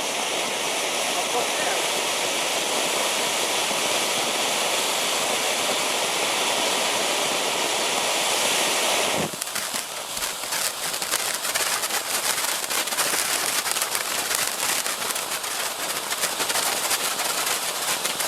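A loud, continuous rushing hiss of fountain fireworks spraying sparks, shifting midway to a crackling, spitting spray that carries on steadily.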